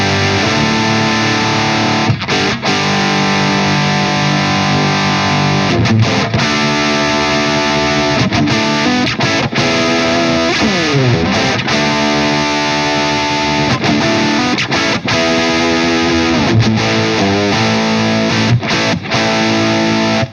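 A Wampler Gearbox overdrive pedal drives an electric guitar into a gritty distorted tone, with loud, continuous riffing, sustained chords and sliding notes, close and alone.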